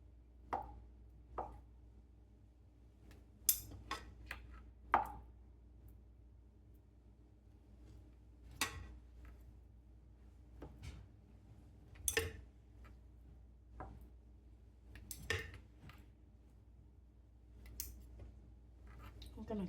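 Knife work on an avocado while making a smoothie: sparse, sharp, close clicks and taps against a board or bowl, a dozen or so irregular hits spread over quiet stretches.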